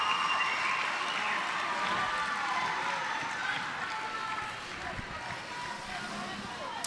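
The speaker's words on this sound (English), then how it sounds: "The crowd are loving it." Roller derby crowd at a Division 2 grand final roaring and cheering continuously at a steady loud level, a broad wash of voices with no single speaker standing out.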